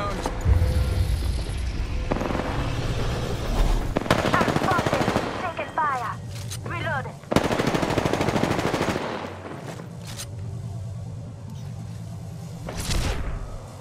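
Automatic weapon fire in the shooter game Apex Legends: sustained, loud rattling bursts with heavy rumbling impacts and whooshes, broken by short pauses, dense and close throughout.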